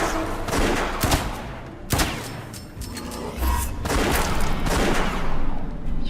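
Rapid bursts of gunfire and thumping shots from the video game West of Dead, loud and dense, with volleys repeating throughout and a few heavier booms.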